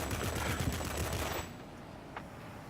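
Six Colt Mk 12 20mm cannons on an XF-90 jet fighter in a flight combat video game, firing a dense, loud rattling burst for about a second and a half before cutting off to quieter engine noise.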